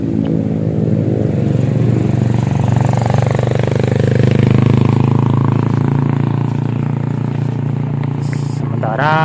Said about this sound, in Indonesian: ada suara motor sangat berat sekali